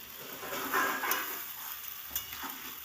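Steady sizzling of mixed vegetables frying in a pan, with the scrape of stirring rising and falling throughout, close and moderately loud, no voices.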